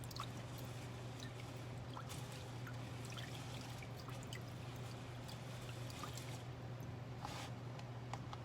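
Steady pouring of rice water, a continuous close trickle with a low hum underneath and occasional small splashes.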